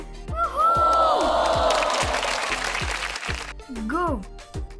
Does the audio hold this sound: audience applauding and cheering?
yes